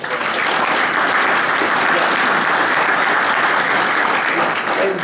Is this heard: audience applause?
yes